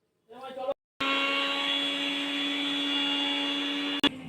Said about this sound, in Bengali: আমরা পুদিনা পাতা, ধনে পাতা আর কাঁচা লঙ্কা দিয়ে মিক্সি করে নেব